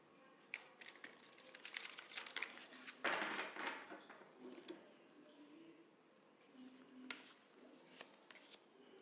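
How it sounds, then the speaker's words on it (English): A deck of tarot cards is shuffled by hand in a series of close, crisp riffling and slapping bursts with short pauses between them. "I'm gonna shuffle the cards until I feel the deck is ready"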